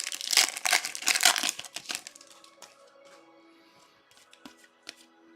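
Plastic trading card top loaders are handled and cracked open in a dense run of crinkling, snapping bursts for about two seconds, then tapering into scattered faint clicks and rustles.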